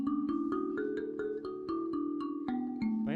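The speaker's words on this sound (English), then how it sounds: "so the normal scale of the Imbira sounds like this." An mbira plays its normal scale, one plucked metal tine at a time. About a dozen bright, ringing notes come in a steady rhythm over a sustained shimmer, close and fairly soft, with no voices.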